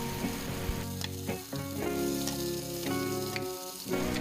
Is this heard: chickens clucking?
no